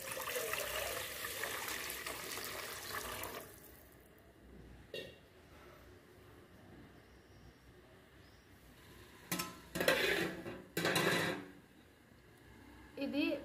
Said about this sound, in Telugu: ఇప్పుడు కొన్ని వాటర్ వేసుకుందాం.